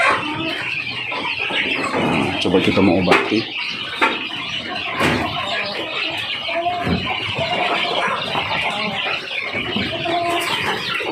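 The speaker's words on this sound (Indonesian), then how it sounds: "ini ayam kita yang sakit, yang terkena snot" Farm chickens, one sick with snot (infectious coryza) and swollen shut eyes, clucking and squealing close by in a continuous busy stream while someone talks over them.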